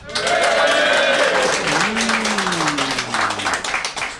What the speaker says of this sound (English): So if you think the points should go to Joe, give us a cheer now.